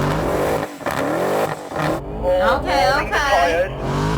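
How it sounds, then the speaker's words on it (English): A line-locked American muscle car does a burnout, its engine revving hard and high-pitched over a roar of spinning tyres burning rubber, loud and close, while people talk and exclaim over it. "He's burning that rubber right now."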